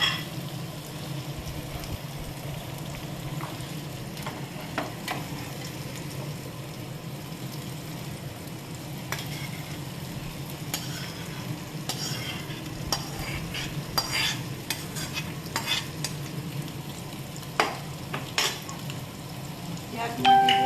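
Almonds and cashews fry in a pan while a utensil stirs them now and then, giving a steady close sizzle broken by repeated scraping and clinking strokes, with no talk over it.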